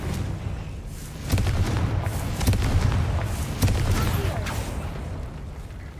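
Repeated booming blasts from the Confringo spell in Hogwarts Legacy, several heavy thuds over a few seconds with a rumbling, reverberant tail, loud and close.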